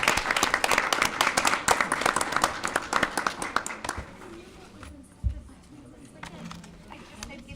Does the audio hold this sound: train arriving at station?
no